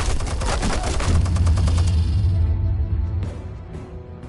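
Weapon fire in a Batman video game, a loud rapid burst of machine-gun shots with a heavy low rumble that tails off after about three seconds, followed by a fainter shot or two.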